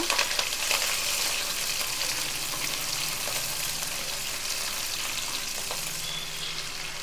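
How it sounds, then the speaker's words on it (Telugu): Onions, green chillies and curry leaves fry hard in hot oil on a high flame, a loud, steady sizzle with crackling that holds throughout without any talk. "ఇప్పుడు హై ఫ్లేమ్ మీద పెట్టాను కాబట్టి దోరగా వేగుతూ ఉంటాయి"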